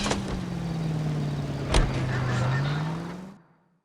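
Steady car engine hum while driving in the video game L.A. Noire, with a slight pitch sweep and a brief knock midway, before the sound cuts off.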